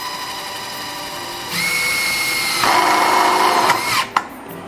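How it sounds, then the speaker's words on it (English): A power drill drives a self-drilling screw into a metal awning channel, its steady whine jumping up in pitch and loudness partway through, then ending with a couple of sharp clicks. Close and clear, with no talking. "Drill it in."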